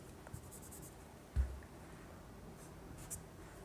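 A ray diagram is drawn on a board during a physics lesson on reflection, with faint quiet marker or chalk strokes and one soft knock on the board.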